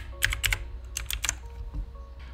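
Close clatter of a computer keyboard as text is typed into Microsoft Word, a few quick bursts of keystrokes separated by short pauses, no voices.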